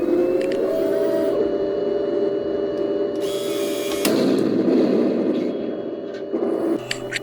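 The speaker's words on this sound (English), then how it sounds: "it's got different sounds even on the guns." Heng Long RC tank in diesel engine mode firing its gun sound effects: a steady electronic engine drone with a sharp burst around four seconds and another near the end, loud and close with no talk.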